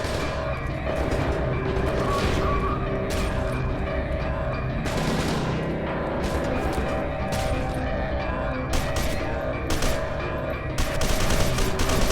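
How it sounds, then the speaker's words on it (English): Steady gunfire through a firefight in the video game F.E.A.R. 2, with dense, loud shots and impacts running continuously with occasional crashes. "Who's shooting?"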